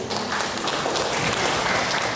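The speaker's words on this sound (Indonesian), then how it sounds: "Tepuk tangan untuk Haji Bakri" An audience claps loudly and continuously for an honored guest at a PWRI anniversary gathering, a thick wash of close applause filling the whole moment.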